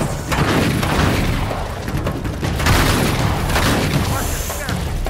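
Gunfire in the Uncharted 3 video game: continuous loud booms and rapid shots mixed with game music and effects, with shouting voices over the top.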